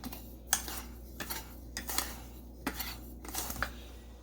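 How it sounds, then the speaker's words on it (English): Dry ingredients for apple pie filling are mixed in a bowl, giving a series of close, sharp clinks and scrapes from a utensil against the bowl at irregular intervals. "So I'm just going to mix this up really good and set it to the side"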